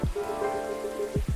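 Steady rain ambience from the cafe game Coffee Talk 2, a continuous patter on a surface over a low musical drone, with a couple of soft low thumps near the end.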